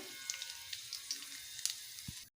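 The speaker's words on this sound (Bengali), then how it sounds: "ওই তেলেই ফোড়নে দেব একটি তেজপাতা কেটে দেবো দুটো শুকনো লঙ্কা দিয়ে দেবো গোটা জিরে" Bay leaf, dry red chillies and whole cumin sizzle in hot oil, a faint, close crackle with small irregular pops throughout.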